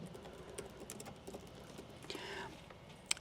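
Quick, uneven keystrokes on a computer keyboard type out a search, a soft run of clicks against a faint background hiss, with a brief scraping burst partway through.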